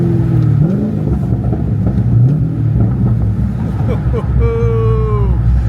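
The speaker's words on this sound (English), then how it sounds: "This car sounds so freaking wicked. It sounds so good." A Chevrolet Corvette C6 engine rumbles loud and close, its pitch sweeping up and settling as it revs, a steady heavy drone filling the whole stretch.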